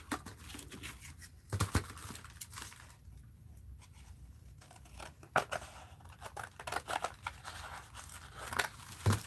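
Scissors cut through mixed-media art journal material, a run of close crisp snips and rustling paper handling with irregular pauses between cuts, no one speaking.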